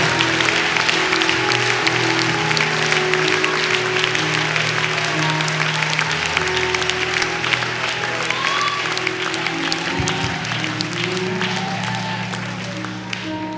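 Applause from a church congregation at a youth worship service, steady and full for the whole stretch, with sustained musical tones, likely organ or keyboard, running beneath and shifting pitch partway through.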